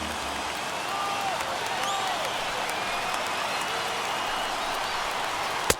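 Stadium crowd in the baseball video game MLB The Show 21, over 39,000 fans on their feet cheering as a perfect game nears, a steady broad roar with faint whistles, ending in one sharp bat-like crack.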